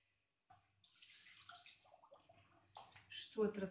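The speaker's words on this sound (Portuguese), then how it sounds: "Estou a tratar de colocar a água" Water running and splashing into a metal pressure cooker, quiet at first and growing louder toward the end, with faint gurgling.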